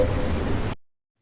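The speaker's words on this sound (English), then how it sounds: "Raining." Rain sound effect: a dense, steady hiss of falling rain with a low rumble underneath, loud and continuous for under a second before cutting off abruptly into silence.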